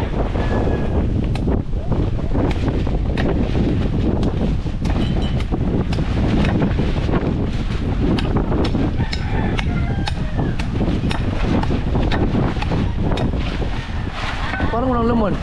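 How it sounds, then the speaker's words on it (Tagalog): Strong wind blows outdoors, a loud, continuous broadband rush of gusts battering the microphone for the whole stretch, with people talking underneath it. "Tapos ngayon, pagka malakas na hangin,"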